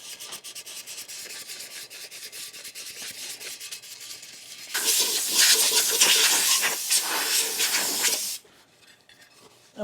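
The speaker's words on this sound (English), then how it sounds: "I'll give this a quick sand." Hand sanding a dented part from a Polaris Sportsman 400 ATV: a steady, moderate scratchy rub that swells into a louder, harsher stretch of fast strokes for several seconds before stopping, with no talk.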